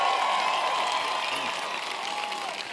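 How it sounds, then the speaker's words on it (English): Audience applause at the White House for President Obama: dense, steady clapping and crowd noise, fairly loud, holding throughout and easing slightly toward the end. "I was going to say let's give him a round of applause"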